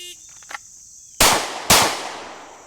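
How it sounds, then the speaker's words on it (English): Two sharp, loud pistol shots about half a second apart, fired after drawing from a holster at close range into a target, each crack ringing out with a short decaying tail after a faint click. "the shooter has to draw, assume a close quarter retention position, and fire 2 rounds into the body of the target"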